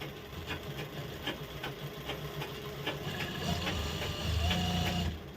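A sewing machine stitches a piping edge on a ready-made blouse, a steady mechanical whir with quick rhythmic clicking of the needle, close and fairly quiet, rising slightly toward the end.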